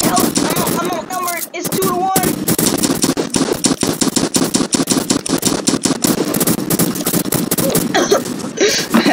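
An ice cream pistol fires in the Food Fight video game as loud, rapid, evenly spaced shots in a long burst. Brief electronic or vocal sounds come at the start and a short pause falls near the end.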